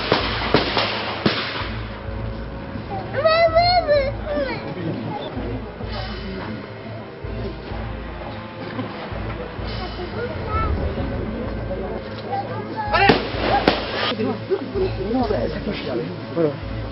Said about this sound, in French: L'allemand il tire.